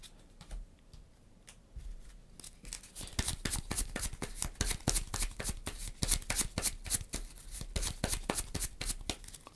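Cards being drawn and handled on a tabletop during a solo game of Imperium Horizons, a steady run of close, crisp flicks and snaps that start sparse and quiet, then grow dense and louder.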